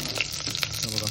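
Ghee sizzles and crackles loudly in a hot pressure cooker while a desi chicken dish is being made, a short burst of bright, spattering frying noise.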